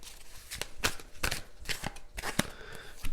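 Tarot cards are shuffled close up in a quick, uneven run of soft riffling and slapping bursts, with no talking.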